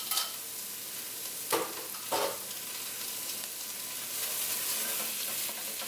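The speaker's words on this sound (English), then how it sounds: "And mix that with the onion, ginger, and oil and spices." Rinsed basmati rice is stirred into onion, ginger, oil and spices in a pan, a soft steady sizzle with two sharp scraping clunks of the spoon against the pan, close and without speech.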